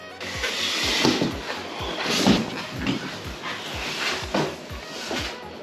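A dog moves about and makes small whimpering, yipping noises at close range, beside repeated low thumps and rustling as a cardboard electric bike box is handled indoors.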